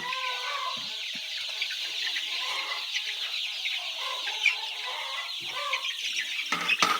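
Thirsty chicks clucking and cheeping as they rush toward water, a busy flock of soft, overlapping calls with occasional louder chirps close by, no voices.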